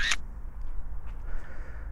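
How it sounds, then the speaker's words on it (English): A single crisp camera shutter click right at the start as a handheld camera and lens photograph a brick wall at 1/100th of a second, then only faint low room hum. "And I'm going to take a picture."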